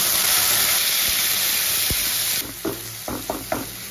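Ground onion paste hits a hot pan for a spicy chicken curry, with salt added, and sends up a loud, dense sizzling hiss. The hiss then drops sharply and gives way to several knocks and scrapes of stirring.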